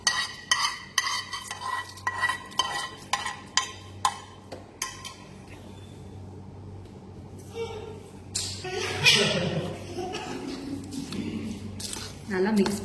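Ven pongal being stirred and mixed in a pot, a series of soft, squishy scraping strokes in a steady rhythm, then a denser stretch of wet mixing sounds, close by and moderately loud with no voices.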